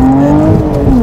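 A Lotus Evora 400 launches hard, its engine note loud and close, a sustained rising tone held through the full second from inside the car.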